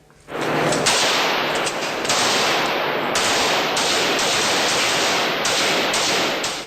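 Sustained bursts of rapid gunfire at a shooting range where recruits train, loud and close, continuing almost without pause for several seconds, with brief breaks between volleys.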